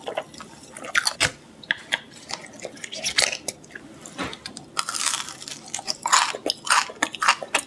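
Close, crisp crunching and chewing of crispy Papa John's chicken strips and potato pizza, steady bites and munches repeating throughout with no talking.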